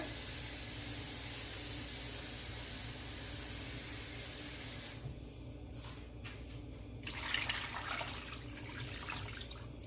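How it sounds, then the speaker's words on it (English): Water pours into a pot of Jamaican oxtail stew peas partway through, a brief splashing rush over a low steady background hum. "I'm gonna add some more water."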